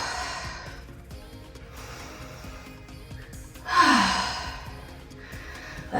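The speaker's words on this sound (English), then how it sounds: "A few deep breaths in through the nose." Slow, deep breathing during a Pilates stretch at home, with soft inhales and a fuller, louder exhale standing out midway.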